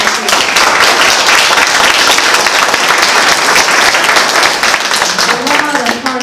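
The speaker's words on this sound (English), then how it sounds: "Big round of applause for that." Hearty audience applause at a community forum on water for the volunteers of a water study, a loud, dense wash of clapping with some crowd voices underneath, tapering slightly at the close.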